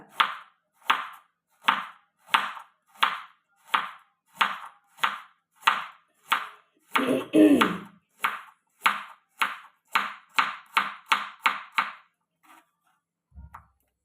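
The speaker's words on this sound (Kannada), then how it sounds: "ಕಟ್ ಮಾಡ್ತಿದ್ದೀನಿ ಚಾಕುವಿಂದ" A knife chops radish into rounds on a cutting board, sharp close strokes in a steady rhythm of about twenty cuts, with a brief scrape mid-way and a soft thud at the end.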